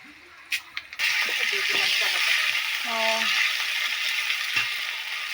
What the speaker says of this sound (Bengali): মেথি ফোড়ন দিয়ে দিচ্ছি আর দিয়ে দেবে কালো জিরে